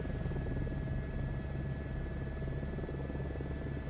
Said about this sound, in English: Bassy sound effects telling me that I'm getting into vortex ring state